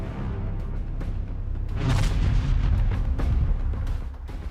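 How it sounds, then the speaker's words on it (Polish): A World War II bouncing bomb explodes beyond a dam, a deep, rumbling blast that swells over a couple of seconds and fades, heard alone at moderate loudness. "Przeskakuje nad zaporą i wybucha po drugiej stronie."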